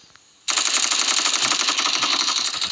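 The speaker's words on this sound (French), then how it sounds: "je vais camper avec une AK-47" AK-47 fire in a video game: a sudden burst of rapid automatic shots that keeps going steadily for a couple of seconds after a quiet start.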